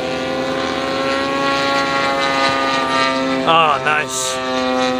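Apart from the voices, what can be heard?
RC model P-40 airplane flying at airshow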